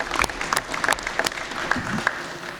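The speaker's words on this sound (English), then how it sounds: "So let's give them a round of applause for that work they did." A county board of supervisors meeting audience in a high school gives a short round of applause, scattered claps close by with a few sharp individual hits.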